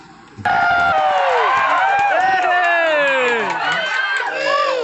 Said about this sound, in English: And the crowd comes alive whenever there is something happening between two of the teams.